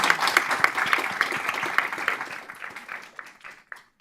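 An audience applauds a Swami after a question session, the clapping steady and dense at first, then thinning out and fading to a few scattered claps by the end.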